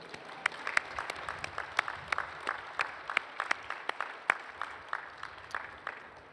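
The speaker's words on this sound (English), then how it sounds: "Please give them all a big round of applause." Audience applause at a university commencement ceremony, sparse and moderately distant, with individual sharp claps standing out over a soft bed of clapping from a modest crowd.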